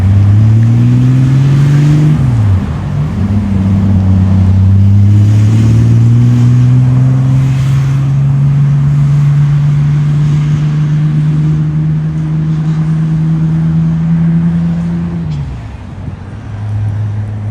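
A classic car's loud engine drones steadily close by, revving with shifting pitch and tone, then fades slightly near the end as the car pulls away.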